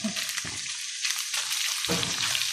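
Eggplant and tomato fry in a pan while being stirred, a steady close sizzle broken by scraping bursts as the mixture is turned, with no talking.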